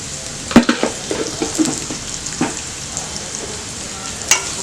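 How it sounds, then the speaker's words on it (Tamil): Onions sautéing in a pan for a home-cooked Tamil poriyal, giving a steady close sizzle with a few stirring scrapes and clinks of a utensil against the pan, no talking. "வெங்காயம் வதங்கட்டும்."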